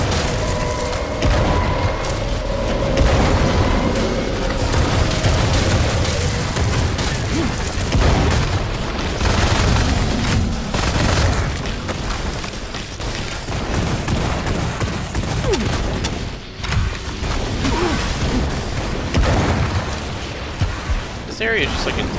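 A rocket-launcher-style weapon in the retro shooter Wrath: Aeon of Ruin fires in a continuous barrage of booming explosions and blasts, loud and dense from start to finish, with a voice talking over it.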